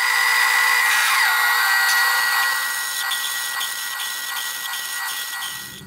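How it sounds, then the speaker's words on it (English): Power drill boring a hole through the center of a clamped locking lug nut key, a loud steady high-pitched whine that slowly fades and winds down toward the end, with no talking. "I'm going to drill one hole through the center of this."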